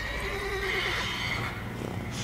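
A horse, a mare in The Witcher 3 video game, lets out a clear neigh, a wavering whinny that rises and trails off, over a soft background ambience.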